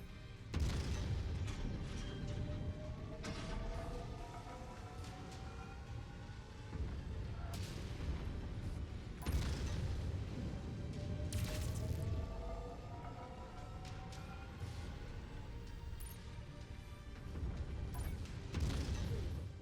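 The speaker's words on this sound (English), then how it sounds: "That explosion just about filled the whole screen, Uncle Samuel." Explosions in a video game rumble as repeated deep booms and bursts over continuous loud battle noise, with whooshing sweeps between blasts.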